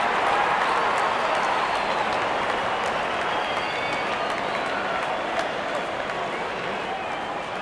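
A Real Cricket 22 video game crowd applauding a batter's fifty: a dense, steady wash of clapping and cheering from a stadium audience that holds evenly for several seconds with no individual voices.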